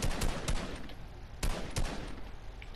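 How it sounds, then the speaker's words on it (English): Gunfire in the Fortnite video game comes as several sharp shots in two quick bursts, loud and close, with no talking. "I'm still attempting to shoot them down, but I can't."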